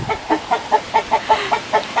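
Chickens and roosters clucking in a steady run of about ten sharp, evenly spaced calls, close and fairly loud, with no talking.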